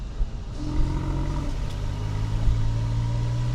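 A 2002 Porsche 996 C4S engine cruises steadily at about 3,000 RPM, a continuous low, even drone heard from inside the car with no talking.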